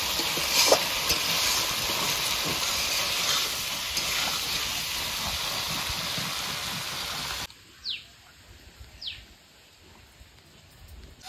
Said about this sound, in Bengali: আলু কচুটা ভালো করে কষানো হয়ে গেছে